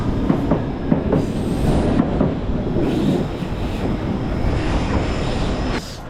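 A train at London Paddington station rumbles steadily up close, with rhythmic clickety-clack wheel beats and a faint metallic squeal. No one speaks over it.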